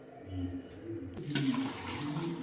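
Boiled turmeric water poured slowly over fresh raw turmeric roots in a basket, a continuous soft splashing and gurgling pour at moderate level, steady throughout with no speech.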